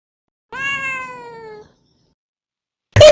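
A cartoon cat in an animated story lets out a single drawn-out meow, loud and clean against silence, and a brief sharp sound cuts in at the very end.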